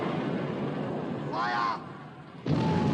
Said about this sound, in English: Open fire. Shoot!